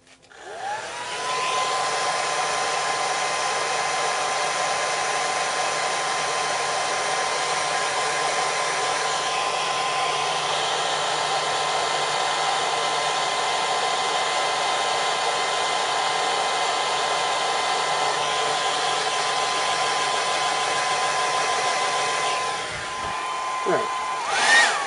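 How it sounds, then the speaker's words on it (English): A hair dryer blows steadily for about twenty seconds, drying weathering pigment on model terrain flooring, a constant close whirring roar that starts abruptly and cuts off near the end. "Let's go in there with the hairdryer again."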